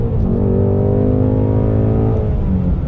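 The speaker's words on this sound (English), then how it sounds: "roll in second gear. Just let the R's climb." A 2020 Ford Shelby GT500 pulls in second gear, its engine revving up steadily and loudly with a smooth rising drone close by, then settling near the end.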